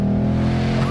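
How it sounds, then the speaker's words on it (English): A 2022 Ford Mustang Mach-E GT plays its active exhaust sound in Sport Plus mode. It is a loud, steady, humming drone that lasts about a second, with no talking over it. "And you can hear, this has active exhaust."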